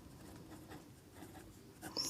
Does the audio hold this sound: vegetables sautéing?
no